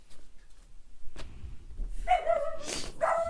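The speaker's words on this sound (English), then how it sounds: "my dog is going insane because the UPS guy just came" A dog barks and yips agitatedly indoors at a delivery at the door, a few loud sharp barks after a short thump.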